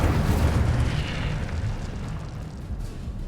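Fire spell cast in the video game Hogwarts Legacy, a heavy roaring whoosh of flame that starts loud and slowly fades into a rumbling burn.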